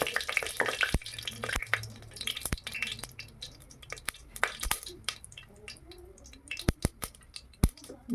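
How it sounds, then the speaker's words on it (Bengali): Chopped onions frying in hot mustard oil with cumin, a soft hiss punctuated by sharp clacks and scrapes of a spatula stirring against the pan, close and intermittent. "পেঁয়াজ কুচি ছেড়ে দিলাম ছেড়ে দেওয়ার পরে নাড়াচাড়া দিয়ে দিলাম"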